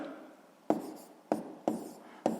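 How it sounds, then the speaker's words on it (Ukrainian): A pen writes an answer on paper in four quick, distinct scratching strokes, close and quiet, with no talking. "Ну що ж, записуємо відповідь, пишемо відповідь."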